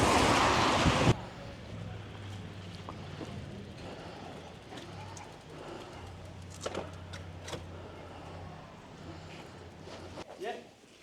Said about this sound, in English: It's a very windy day, very rainy day.